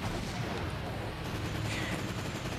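Gunfire from a Terminator: Dawn of Fate video game, a dense continuous clatter of rapid shots at steady loudness with no clear gaps, heard alone without talk.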